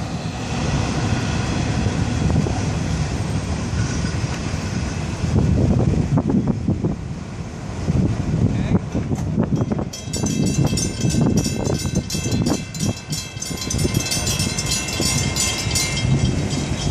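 A long, loud rumbling roar of a passing Florida East Coast freight train with clattering and rattling, wind buffeting the microphone, and a faint ringing crossing bell later on.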